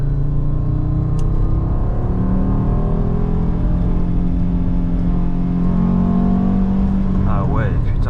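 A 2.2-litre five-cylinder naturally aspirated engine in an Audi Coupé GT 2.2E with a stainless exhaust line drones steadily and loud from inside the car, with someone talking over it.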